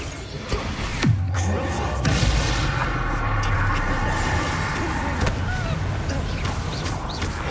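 Magical blasting spell in Hogwarts Legacy, with a sharp explosive crack followed by a rumbling boom over a continuous loud bed of game noise and music.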